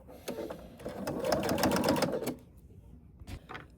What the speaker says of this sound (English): And you are going to want to top stitch that as well.